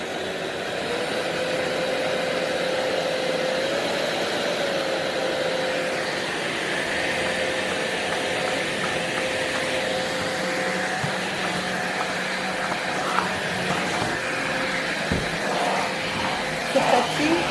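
A Philips XC8055 vacuum cleaner runs at normal speed with its brushes going, a steady whirring drone with a held tone that shifts slightly near the end, with some faint knocks.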